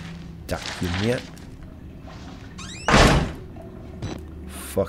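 Doors bang shut in the horror video game Outlast, a few dull thuds with one heavy slam in the middle, mixed with game noises and a voice in the background.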